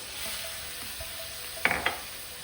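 A faint, steady sizzle in a pan while cooking paella, with a couple of brief scraping clinks near the end.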